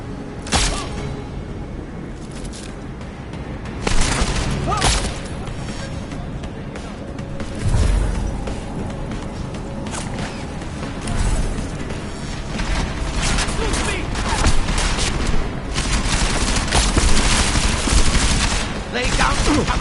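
Sustained covering gunfire from the video game Deus Ex Mankind Divided, with dense crackling bursts and occasional heavier thumps forming a busy, loud battle backdrop.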